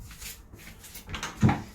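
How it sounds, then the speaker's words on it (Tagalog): A drawer in a Macau hotel room slides and bumps shut with one short, close wooden knock after a moment of quiet room tone. "ayan pa, panibagong drawer, mga lagayan ng mga kung ano-ano anik-anik"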